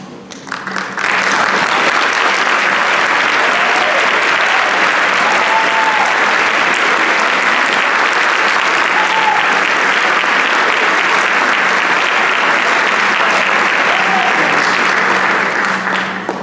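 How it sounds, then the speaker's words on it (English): A scholarship night audience gives donors a long round of applause: loud, sustained clapping from a large crowd that swells quickly and holds steady for over fifteen seconds. "I would ask that you stand so we may formally give you a round of applause"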